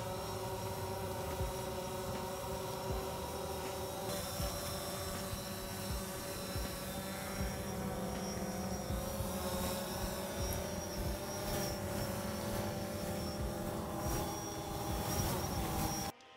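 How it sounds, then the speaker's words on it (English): A DJI Phantom 4 or Yuneec Typhoon H drone in GPS mode flies with a steady, continuous rotor whine and drone that holds constant throughout, with no talk. "Not only was the drone following me, but so was the camera."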